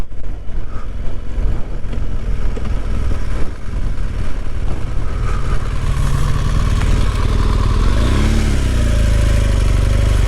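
A BMW R1200GS motorcycle ridden on country roads between Pateley Bridge and Bolton Abbey gives a steady, loud engine drone mixed with wind roar, with a brief rising rev near the end and no talking.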